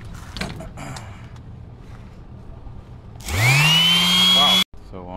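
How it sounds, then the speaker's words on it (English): A cheap Galax Pro power sander smoothing wood flat: after quiet handling noises, the motor spins up to a loud, rising whine that runs about a second and a half before cutting off suddenly. "I'm gonna sand these down to be flat right now"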